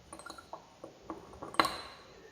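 Ice cubes dropped one after another into a glass bottle holding lukewarm water, making a few light clinks and knocks against the glass, with one sharper, brighter clink near the end. Nobody speaks.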